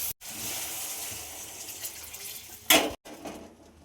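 Water is poured into a cooking pan for Maggi noodles with fried tomato and spices, a steady close gush broken by a brief clank of the pan.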